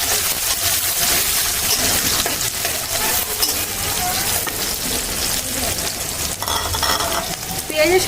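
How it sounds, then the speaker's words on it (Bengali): Onions fry in hot oil with a continuous dense sizzle and crackle, close and steady, with occasional stirring and a voice faintly under it. "তেল গরম হয়ে গেছে, দিয়ে দিই পেঁয়াজ"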